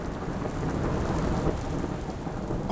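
Steady heavy rain pours down in a sudden storm in Şarköy, Turkey, with rumbling thunder beneath the constant hiss of drops on the surface, loud and continuous with no voices.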